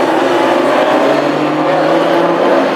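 Classic hot rod race cars on the installation lap at Hednesford, running on Avon A10 tyres, their engines roaring loud and close in a steady, unbroken drone.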